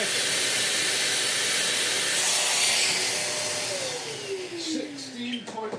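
A V-TUF Mini HSV X2 M-Class vacuum runs steadily with only its hose attached, giving a loud, constant broadband roar with airy hiss that dips slightly near the end while faint tonal whines sweep underneath.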